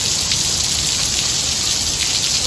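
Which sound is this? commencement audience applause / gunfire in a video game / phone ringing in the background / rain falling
rain falling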